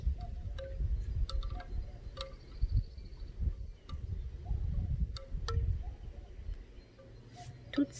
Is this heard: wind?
yes